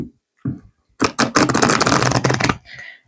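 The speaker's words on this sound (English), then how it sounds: "I'm just going to give them a good shuffle here." A deck of cards gets a vigorous riffle shuffle, a dense burst of rapid flapping and clicking for about a second and a half, close and fairly loud. It follows a few soft handling taps and ends with a brief light rustle.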